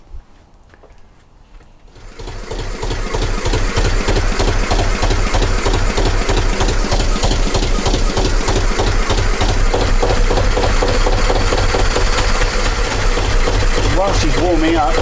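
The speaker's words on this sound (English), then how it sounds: "you shouldn't leave a diesel engine just ticking over continuously without a load on it" A vintage narrowboat diesel engine starts after a few clunks and settles into a steady, loud idle with a rhythmic low knocking chug.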